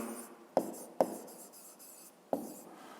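A math expression for a fifth-grade exercise is written out by hand: soft, steady scratching strokes broken by three sharp taps, close and alone with no talking.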